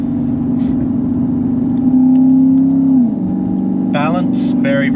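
A Lexus IS F engine revs up as the car accelerates out of corners, a loud steady drone that swells and then drops in pitch, with someone talking over it.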